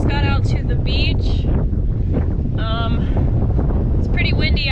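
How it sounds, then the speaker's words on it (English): Wind blows steadily across an open beach, buffeting the microphone with a constant low roar and rumble throughout, while a person talks intermittently over it. "It's pretty windy out here."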